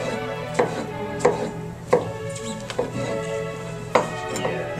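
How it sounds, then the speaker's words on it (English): A sharp knife strikes a cutting board at an irregular pace while dicing tomatoes for bruschetta, giving about six distinct close taps over a steady low background hum. "As soon as I go back the other way, you're going to end up with your ready to go diced tomatoes"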